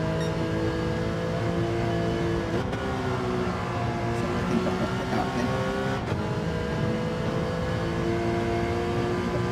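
Race car engines in the Gran Turismo racing game on PSVR2 drone steadily through the whole stretch, a dense, continuous roar with sustained revving and another car close behind.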